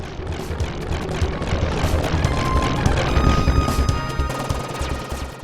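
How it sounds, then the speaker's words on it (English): Dense, rumbling explosions in Contra: Hard Corps crash and boom continuously with gritty, crunchy debris and rattling impacts, loud and close throughout. "If you listen to the explosion sound effects, you can hear that satisfying,"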